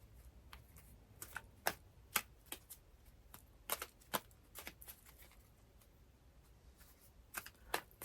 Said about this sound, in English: I'm just trying to shuffle here.